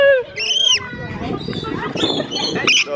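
A pet bird gives shrill, whistling calls, a few separate squawks rising and falling over the clip, close by, mixed with background chatter.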